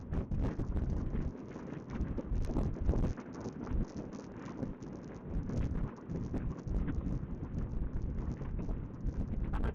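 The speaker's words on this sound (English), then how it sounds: "It's windy every day, every single day. It's really gusty." Gusty wind buffets a microphone outdoors on a blustery British street, giving a continuous low rumble that surges and drops, fairly faint, with no talking.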